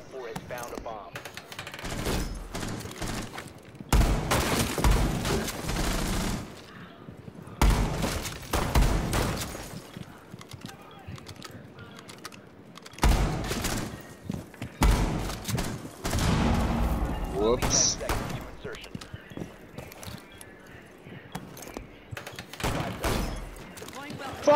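Gunfire during a Rainbow Six Siege match: several loud bursts and bangs come in separate clusters with quieter stretches between, mixed with excited talking from the players.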